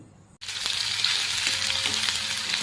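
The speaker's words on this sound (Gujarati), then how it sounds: "અહીંયા તેલ ગરમ મૂક્યું છે. તો હવે આપણે વઘાર કરશું." Cumin, curry leaves, ginger and green chillies drop into hot oil for a tempering, bursting from quiet into a loud, steady, close sizzle that holds through the clip with light stirring clicks.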